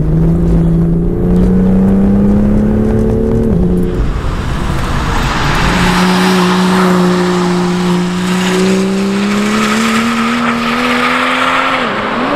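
A race car, an M2 GTS on a damp track, brakes hard with the engine note dropping and tires squealing briefly as the brakes lock, then the loud engine pulls away and climbs in pitch.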